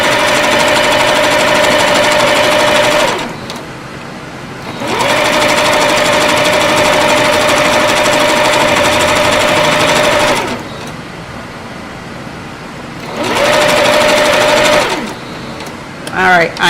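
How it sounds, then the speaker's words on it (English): A sewing machine runs a stay stitch beneath the underarm of a Butterick 6096 garment, humming loudly and steadily in three long runs separated by brief pauses. A voice talks throughout. "So I'm going to start right under this underarm part and just do a stay stitch."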